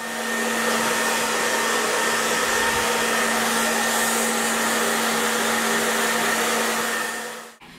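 A hair dryer blows steadily while drying hair, a loud, constant whooshing whine with a fixed hum that runs unbroken for several seconds before cutting off abruptly at the end.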